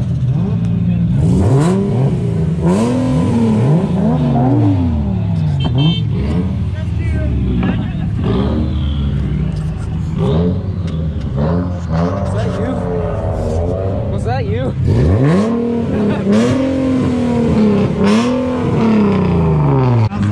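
Toyota Supra Mark II engine revving at a busy car meet, loud repeated rising and falling revs close by, with crowd voices and talk throughout.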